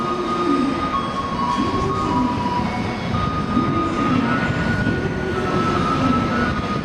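An N700 series Shinkansen on the Sakura service to Kagoshima-Chuo rolls into Shin-Kobe station with a steady rumbling roar and repeated wheel thumps under a faint high whine, with no voices heard.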